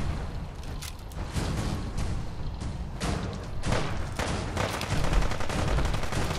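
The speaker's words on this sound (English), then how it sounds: "Who's shooting at me?" Gunfire in the video game Fallout 4: Far Harbor, a dense stretch of repeated shots and bursts that stays loud and constant throughout.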